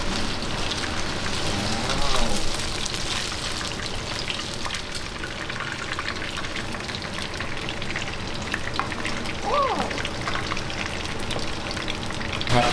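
Food frying in hot oil over a strong flame in a home kitchen, a loud, steady, close sizzle and crackle that runs throughout with no pauses.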